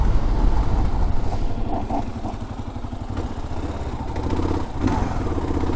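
Kawasaki KLR650 motorcycle under hard braking on a road, the rear ABS pulsing as the wheel nears lockup; a steady loud engine and road rumble continues throughout with slight clattering, no talk.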